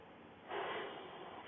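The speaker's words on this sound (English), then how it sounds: "So take a deep breath with me right now." A single deep inhalation through the nose, quiet and close, swelling halfway through and then held as a soft airy rush.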